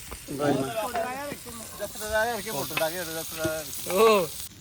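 Chicken frying on a clay roof tile in the Konkan gives a soft, steady sizzle beneath the talk, which sits loud and close over the cooking sound throughout.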